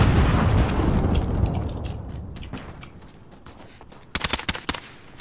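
An explosive charge detonates in Call of Duty Modern Warfare, a loud rumbling blast that fades over a few seconds, followed by a quick burst of sharp gunshots.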